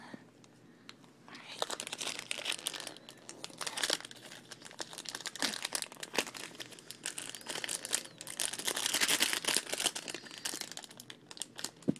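Wrapping paper on a Christmas present crinkles and tears in repeated bursts as someone struggles to open it, close and fairly quiet, with faint whispering in places.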